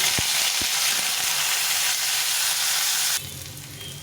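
Coarsely chopped onions frying in a pan with whole cumin and bay leaf, a loud continuous close sizzle with a few stirring knocks, then the sizzle drops suddenly to a quieter hiss.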